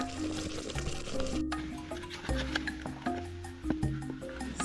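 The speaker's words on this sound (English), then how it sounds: "So I'm trying to break up the lumps like this" A cooking mixture stirred in a pot to break up lumps, close rhythmic scraping and soft squishy knocks of a spoon over a faint sizzle.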